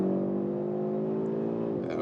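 Updated Audi RS3 on track under throttle, engine note held as a steady, loud drone that climbs slightly in pitch before dropping off near the end, heard from inside the car without speech.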